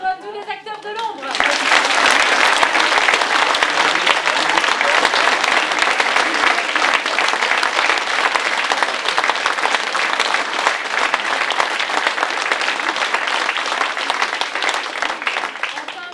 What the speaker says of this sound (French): applaudir tous les acteurs de l'ombre.